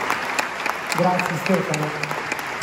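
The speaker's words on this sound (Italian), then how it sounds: "meriti un applauso lunghissimo" An audience applauds after a lecture on archaeology, espionage and wars in the Middle East, with steady clapping throughout while someone speaks briefly over it.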